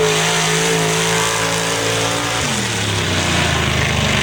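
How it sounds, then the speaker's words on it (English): A 2015 Chevy Colorado pickup's loud engine roars steadily at high revs during a drag racing pass, then its pitch drops sharply as it shifts and keeps pulling past. "2015 Chevy Colorado lays down a 3-second pass"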